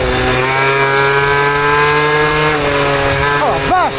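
A moped fitted with a Polini Athena kit revs hard, its engine holding a high, steady buzzing tone before shifting pitch near the end, loud and close.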